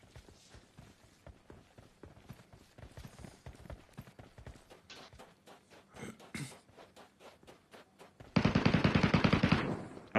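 Gunfire in the PUBG battle royale game, with rapid single shots ticking steadily throughout, followed by a loud, dense automatic burst near the end.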